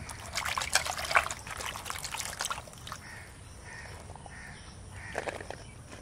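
Freshly gathered wild mushrooms are rinsed in water outdoors with faint trickling and splashing up close, while crows caw repeatedly in the background and no one talks.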